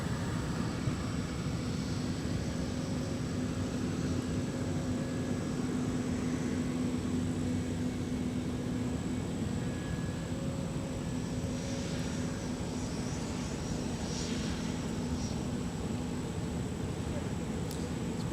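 A United Boeing 737 MAX 8 idles along a taxiway at an airport in the evening, a steady moderate engine drone with a faint whine, continuous and unchanging.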